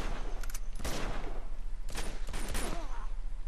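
Bursts of gunfire in the action game Uncharted 2: Among Thieves, several sharp volleys spaced across the moment, loud over a low steady background hum, with no talk.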